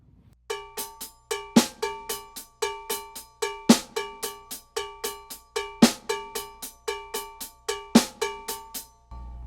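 Crisp drum kit strokes in a steady, repeating Swiss triplet pattern with flammed accents, bright and ringing, played alone at a moderate tempo.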